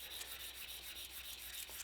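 Fine 500-grit sandpaper rubbed back and forth over a copper-streak dagger handle, a continuous close, dry rasping hiss with faint regular strokes throughout.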